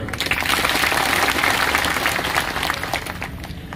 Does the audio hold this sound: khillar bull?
no